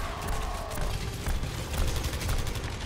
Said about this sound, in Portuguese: Agora ele vai começar a dar tiro em mim.